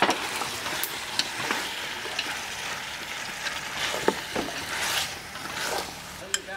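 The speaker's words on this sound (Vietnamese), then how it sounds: "Mình sẽ xào thịt dê cho săn lên nha cả nhà" Marinated goat meat is stir-fried in a pan, giving a steady, close sizzle and hiss broken by scattered scrapes and clatters as the meat is tossed.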